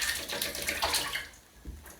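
Shower water runs steadily during shaving, a continuous broadband splash and hiss that dips briefly near the end, with no voices.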